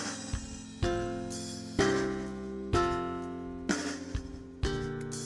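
At a slow 63 BPM, the arrangement of When I Survey the Wondrous Cross plays back with drums, sustained chords struck roughly once a second, with no voices over the music.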